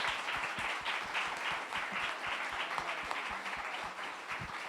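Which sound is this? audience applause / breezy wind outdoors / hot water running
audience applause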